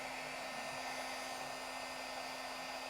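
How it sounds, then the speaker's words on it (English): A small wood-burning smoke absorber fan runs in a steady, continuous whir with a constant hum, close and alone throughout. "that's why I have my wood burning buddy on, to absorb that smoke out of my face. It sucks it right away from you."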